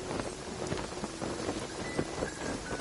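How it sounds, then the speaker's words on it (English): Steady rain pours in the video game Genshin Impact near a forge, a dense even hiss with scattered drop patter, moderately loud and continuous with no voices. "Oh, I don't like the rain."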